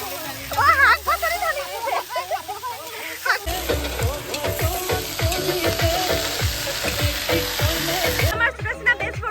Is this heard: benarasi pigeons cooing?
no